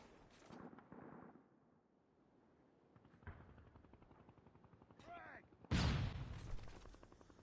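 Sniper rifle shots and other gunfire ring out in a Destiny 2 competitive match, a few sharp cracks with one louder burst near the end, under game effects and spoken commentary.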